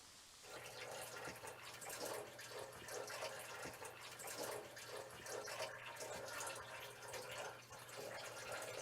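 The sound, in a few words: faucet running water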